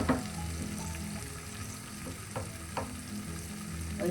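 Chopped onions sauté in a pan while a Kerala-style mackerel fish curry is being cooked, giving a steady close sizzle with occasional stirring scrapes and no voices.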